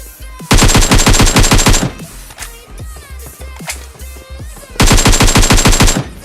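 Rapid automatic gunfire in a shooter video game, two loud, dense bursts of rattling shots at the start and end, separated by quieter footsteps and game sounds.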